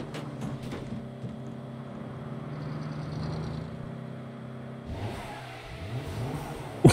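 A car engine revs in the Saints Row video game, a steady mid-pitched drone that climbs and surges near the end, loud and close with no talk over it.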